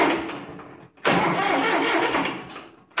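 An engine is cranked by its starter motor, whose Bendix drive had been sticking, and catches in a loud burst. After a brief pause it keeps running with a strong, steady mid-pitched roar that fades slightly before revving again.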